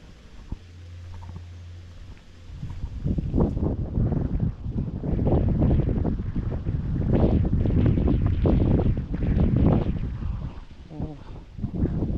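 Strong, cool wind buffets the microphone at a hilltop Buddhist temple viewpoint above a river, with gusty low rumbling surges building and staying loud after a quieter opening.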